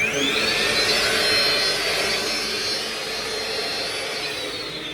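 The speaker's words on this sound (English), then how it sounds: "just give it a quick vacuum over with a soft brush attachment" A vacuum cleaner with a soft brush attachment whines steadily up close while cleaning a smoke alarm, its high-pitched roar holding constant with a slight dip partway through.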